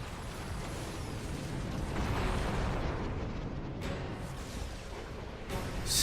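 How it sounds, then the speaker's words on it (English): A distant explosion rumbles in Xenoblade Chronicles 2, a low, sustained roar with a soft burst near the end, heard faintly and without any talk. "An explosion?"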